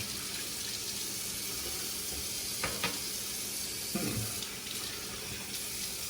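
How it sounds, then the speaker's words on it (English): Tap water runs steadily at close range for rinsing the face after a two-pass wet shave with lavender shaving butter, a continuous hiss with a couple of brief splashes as hands dip into the stream. "Let's rinse the face."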